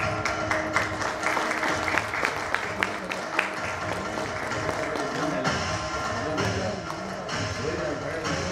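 An audience at a school alumni get-together claps, a dense burst of applause that carries on steadily with voices murmuring underneath.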